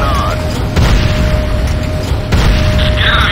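A building blows up in the Command & Conquer Renegade shooter, a loud booming blast followed by a second heavy burst, set against a steady in-game hum.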